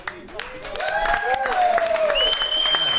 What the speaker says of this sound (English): let's just give it a big clap to Ash